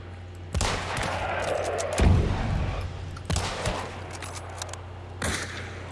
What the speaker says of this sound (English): I'm hearing gunshots, but they're a ways out.